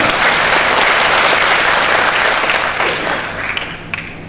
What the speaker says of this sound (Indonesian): Tepuk tangan untuk Kang Randy Saputra.